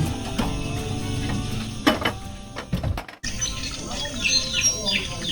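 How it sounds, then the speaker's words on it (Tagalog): Bright, varied bird calls chirp and tweet through a busy outdoor soundscape in Impasug-ong, Bukidnon, several overlapping, moderately close, with a voice speaking intermittently in the background. "Yung ingay ng mga birds."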